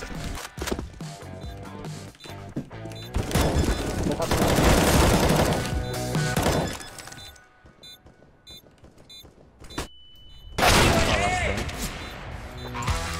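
Bursts of rapid gunfire from a competitive CS:GO match crackle loudly in dense volleys, pause, then erupt again near the end, with game sound effects mixed in.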